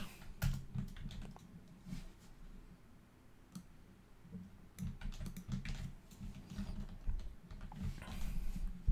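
Close, rapid computer-keyboard typing as code is entered for server-side validation with Joi, with irregular bursts of key clicks and brief pauses throughout and no voices.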